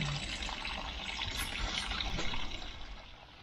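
Acriflavine treatment pours into a koi pond as a steady, soft, hissing trickle of liquid that runs for several seconds and eases off slightly near the end.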